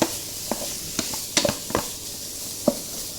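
Lasagna sauce with tomatoes being stir-fried in a pan, a soft sizzle under several sharp scrapes and clacks of a utensil against the pan at uneven intervals.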